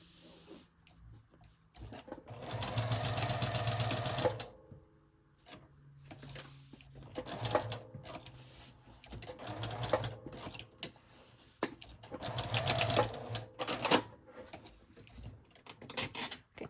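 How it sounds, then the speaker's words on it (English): A sewing machine runs a box stitch on fabric for a folio, buzzing in several separate bursts of varying length, close up, with small clicks and handling sounds between the runs. "I just did a little box stitch instead of just one straight stitch of lines"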